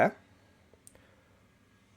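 A computer mouse on a Windows PC gives two or three faint, quick clicks in a quiet room. A brief burst of voice comes just before them.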